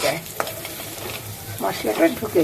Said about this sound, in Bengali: এখন এই ডিমটা এর মধ্যে আমি একটু কষিয়ে নিচ্ছি, যাতে করে এর মধ্যে মশলাটা ঢুকে